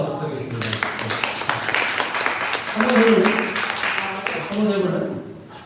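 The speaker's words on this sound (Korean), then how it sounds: "네, 다시 수고해서 박수 한번 부탁드리겠습니다." Applause and cheering from a church youth group congregation at a Sunday service in a hall, a dense crowd of clapping rising and swelling with voices mixed in throughout.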